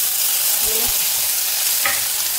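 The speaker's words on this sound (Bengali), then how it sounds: "এখানে আমি পেঁয়াজটা ভেজে নিচ্ছি" Onions frying in a pan, a steady close sizzle with a few soft stirring scrapes, no talking.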